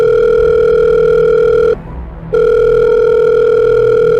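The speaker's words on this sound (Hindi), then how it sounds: "ये देखकर विराट अपने एक दोस्त कोहन को फ़ोन लगाता है।" Loud telephone dial tone as a call is placed, a continuous steady hum that cuts out briefly partway through, then resumes unchanged.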